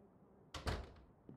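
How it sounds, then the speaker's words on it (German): A door is shut in the video game Mafia 2: a sharp wooden thud followed by a second heavier knock and a faint click, quiet overall with no talking. "Machen wir erstmal die Tür zu."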